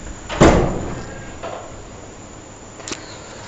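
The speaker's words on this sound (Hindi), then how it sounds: "ये दरवाज़ा जो है ना वो बंद कर लें" A door is pushed shut in a hot room during a horror-themed walkthrough, giving one loud thud near the start, then a softer bump and a faint click later, with a high electrical whine running throughout.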